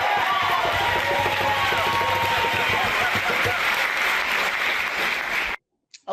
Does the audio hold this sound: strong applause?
yes